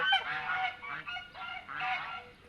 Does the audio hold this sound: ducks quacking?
yes